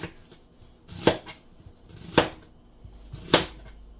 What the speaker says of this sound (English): basically I slice it right down the middle